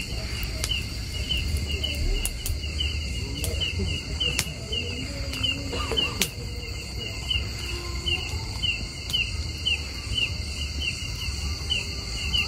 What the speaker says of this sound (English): You can hear the cricket.